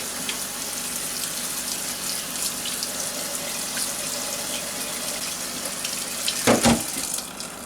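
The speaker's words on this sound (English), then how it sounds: "So I'm just going to run it under this cold water, really chill the peas down so they don't keep cooking." Cold tap water runs steadily over blanched peas in a kitchen sink, a constant close splashing flow, with a brief louder splash near the end.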